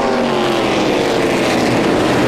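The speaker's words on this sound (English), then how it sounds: "Everybody hard on the gas here at Kawartha Speedway." Stock race cars roaring around Kawartha Speedway during the Kawartha 250, a dense sustained wall of engine noise at full throttle, loud and close throughout with no break.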